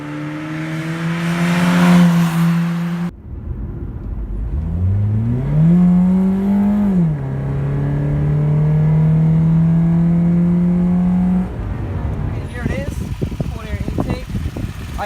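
A Chevrolet Cavalier fitted with a cold air intake revs and drives past, its engine note climbing and holding a loud steady drone before fading, with people talking nearby at the start and end.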